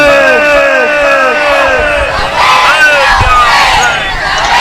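Large crowd at a Shia protest sit-in majlis shouting a chanted slogan in unison, a loud roaring burst of many voices that swells and fades in repeated waves.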